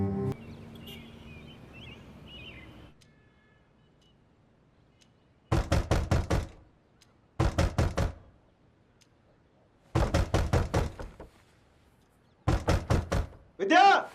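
Four loud bursts of rapid knocking pound on a locked door indoors, each a short flurry of heavy raps separated by pauses, after an opening stretch of background noise; a voice cuts in briefly at the very end.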